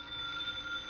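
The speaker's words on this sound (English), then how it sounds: "I was in his office at 5 when it rang again" An old telephone rings in a lieutenant's office, a thin, steady electric bell tone held through the moment at moderate, slightly distant volume, with no talking.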